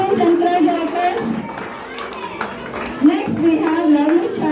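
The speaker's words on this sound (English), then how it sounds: "A great applause for Kritika." Applause for a child at a graduation ceremony, scattered clapping from a crowd mixed with voices and someone talking over it.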